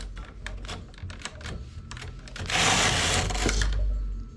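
A domestic knitting machine runs a row on a high tension setting, its carriage making a fast, clattering, rhythmic mechanical rattle up close that swells louder partway through, with no talking.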